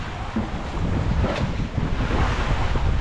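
Rough sea waves churn under strong wind on a rainy, stormy day, a dense, close, continuous wash of surf and gusting wind buffeting the microphone.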